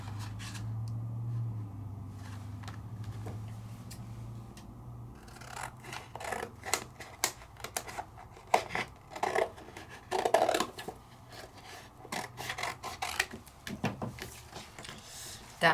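Scissors cutting a piece of Dazzling Damask craft card from Hunky Dory, a run of close crisp snips and rustling card handling, with a faint voice early on.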